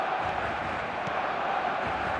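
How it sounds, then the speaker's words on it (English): Simulated stadium crowd in an eFootball soccer video game: a dense, continuous roar of many voices, loud and steady for the whole stretch without breaks. "the crowd level has gone up a notch or 10"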